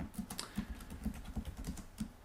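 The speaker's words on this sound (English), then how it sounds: "I'm typing these in using the keyboard" Typing on a computer keyboard, a steady run of close, soft keystrokes at an even rhythm, about seven or eight taps with no voices.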